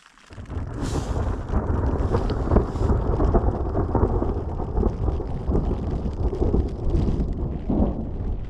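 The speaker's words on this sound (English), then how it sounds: "I don't know if you're going to be able to hear this thunder or not." Thunder rolls through a rainstorm in the Welsh mountains during a carp fishing trip. A loud, continuous low rumble sits under steady rain and gusty wind buffeting the microphone, with no talking.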